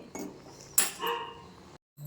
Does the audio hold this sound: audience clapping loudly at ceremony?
no